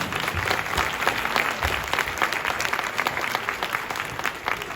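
A crowd at a fundraising event for flood victims in Sweden applauds in a steady, dense wash of clapping that holds evenly for several seconds without a break.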